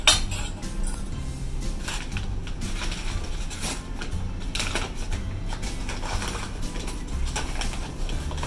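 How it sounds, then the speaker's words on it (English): Dry ingredients such as flour and hot cocoa mix are stirred in a bowl for hot chocolate pancakes, with quick, continuous clinking and scraping of a utensil against the bowl. "The first thing we do is mix all of the dry ingredients into a bowl."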